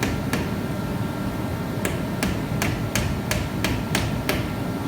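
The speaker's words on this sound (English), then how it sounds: "Donnie's down to using a hammer and nails to very carefully tack them back in place" Hammer striking nails to carefully tack small repair pieces back in place: about eight sharp, close taps, one alone early and then a quick, fairly steady run, over a constant low background hum.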